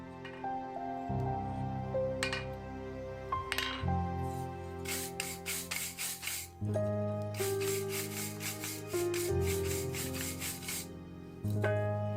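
Sanding that rounds the lower end of a wooden handle for a nail header comes through as bursts of rapid abrasive rubbing over prominent background music.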